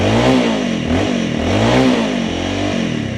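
Honda CRF300L motorcycle with an aftermarket exhaust revving hard, the engine note climbing and falling in repeated rising sweeps up to about 7,000 rpm, loud and close with no talk.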